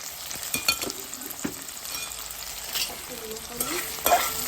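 Curry fries in a pan while a spoon stirs it, a steady close sizzle broken by scraping strokes and light clinks against the metal, with no talking.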